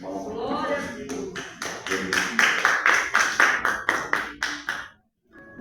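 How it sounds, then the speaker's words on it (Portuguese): Congregation clapping in unison in a Portuguese-language church service, a steady run of sharp, evenly spaced claps of moderate loudness under a voice, fading out near the end. "Dê uma salva de palmas."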